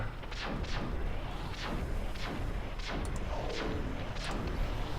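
Repeated cannon shots from a tower defense strategy game, about six sharp bursts spaced roughly every half second to second over a steady busy game background, with no talking.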